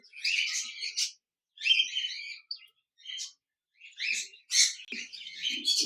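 A pair of zebra finches chirp in quick, bright bursts, close and clear, with short silent gaps between calls.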